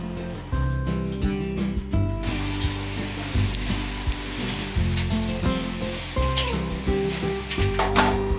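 Quẩy fried dough sticks sizzling in hot oil at a long-running Hanoi street stall, a dense continuous crackling sizzle with clattering bumps and utensil knocks throughout.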